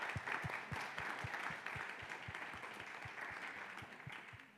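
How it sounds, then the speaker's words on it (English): Faint, distant applause from a Yom Kippur gathering, a soft even patter of many hands with low rhythmic thumps, steady throughout without voices. "let's give a round of applause"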